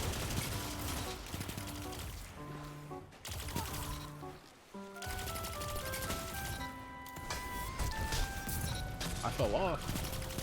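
Video game gunfire: dense, continuous bursts of shots and effects under a layer of music and game sounds, loud and sustained throughout.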